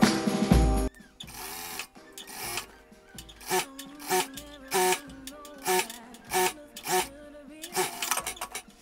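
A sewing machine stitches a seam on a blouse in short, separate bursts of mechanical whirring, each lasting under a second and separated by quieter gaps, close to the listener, following a brief louder noise at the start.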